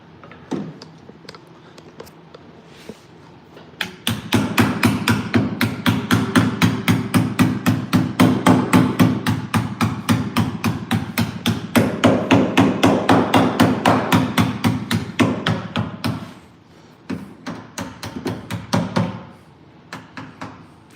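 Rapid, steady hammer blows ring out on the metal cab of a 1986 Ford F150 for about twelve seconds, loud and close, then a few scattered taps follow.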